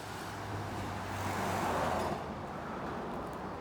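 A car passing on a road, a broad whooshing rush that swells to a peak in the middle and then fades, with steady outdoor background hum.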